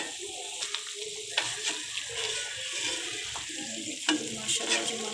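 Peeled tomatoes stirred in a pan with a spoon over a steady sizzling, watery bubbling bed, with occasional sharper scrapes and knocks of the spoon, close and continuous throughout.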